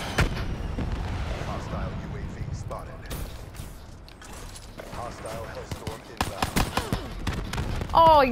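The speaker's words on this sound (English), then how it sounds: "he got me with the fucking hellstorm" Hellstorm missile strikes in a video game burst out as a series of sharp explosive bangs over constant game noise, with a loud blast at the very end and voices talking through it.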